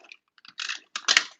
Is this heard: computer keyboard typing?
yes